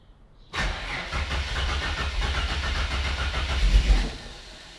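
A turbocharged Ford Fairlane engine running a Haltech ECU cranks and catches after a short silence, then runs as a loud, steady, close rumble with a brief surge near the end.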